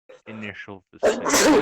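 After a few spoken words, one person gives a single loud, close sneeze, a sharp burst that stops the talk.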